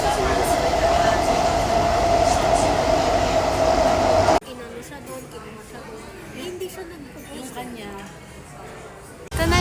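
Loud MRT metro train noise in Singapore with a high whine and rumble, then an abrupt cut to a quieter rattling carriage interior with faint voices.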